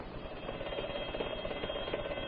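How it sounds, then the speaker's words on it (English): A burglar alarm bell in a 1935 radio drama rings continuously, a rapid metallic trill holding steady and fairly loud throughout, with no voices. "Set off the alarm."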